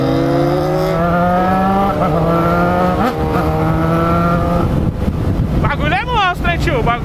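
SRAD 1000 sport motorcycle engine droning at speed while riding, the pitch holding then dropping and rising again as revs change, with heavy wind rush and a voice talking over it.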